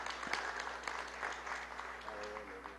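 A county board meeting audience gives a faint, distant round of applause, steady scattered clapping that continues for a few seconds in a large room.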